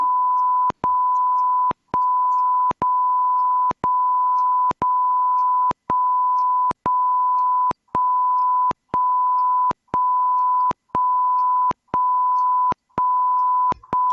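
An infant incubator's high-temperature alarm sounds a steady high-pitched tone, broken by brief gaps about once a second, repeating continuously and loudly with no voices.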